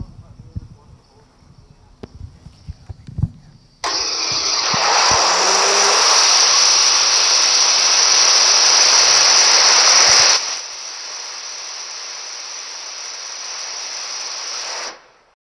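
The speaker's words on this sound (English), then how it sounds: "Hit the static engine test, see if that'll fire up." A horizontal rocket engine static test fires after some faint background noise, erupting into a loud, roaring hiss that holds steady for several seconds, then drops to a quieter sustained rush before cutting off.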